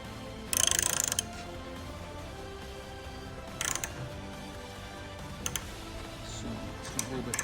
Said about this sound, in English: Grab the ratchet.